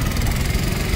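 A motorcycle engine idles steadily close by, a continuous low, rumbling drone with a slight throb and no change in pace throughout.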